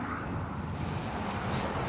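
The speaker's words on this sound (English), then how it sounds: "It's so windy." Strong wind buffets the microphone outdoors beside a vehicle at a trash-strewn lot, a steady loud broadband roar with no pauses throughout.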